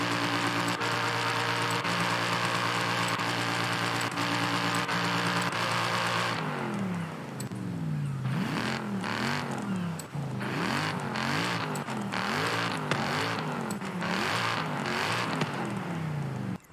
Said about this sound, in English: you'll be able to rev your engine and you can hear how each part will change the sound of the engine in real time